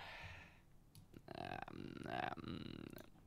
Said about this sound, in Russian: Чё рыгаешь, покушал?